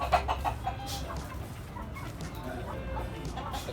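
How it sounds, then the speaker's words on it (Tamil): Live country chickens cluck at a farm eatery in Salem, a cluster of short close clucks at first, then softer scattered calls over a low outdoor rumble. "நாட்டுக்கோழி நீங்கள் இங்கேயே வளர்க்குறீங்க?"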